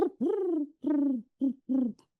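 A man imitates a pigeon's cooing, giving four or five soft, throaty coos in a halting rhythm, close and clear with no other sound around them.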